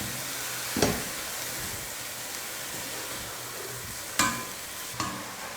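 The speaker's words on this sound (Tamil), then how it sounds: "கீரை சேர்த்து நல்லா வதக்கிடலாம்." Fresh spinach sautéing in a hot pan for palak dal gives a steady close sizzle and hiss, with a few sharp scrapes and clatters from stirring.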